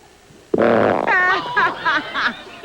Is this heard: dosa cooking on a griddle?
no